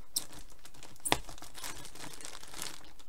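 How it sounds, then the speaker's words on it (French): Plastic packaging of an AliExpress parcel crinkles and rustles steadily at close range, with one sharp ripping tear about a third of the way through; no one speaks. "Donc je vais ouvrir mon paquet avec vous."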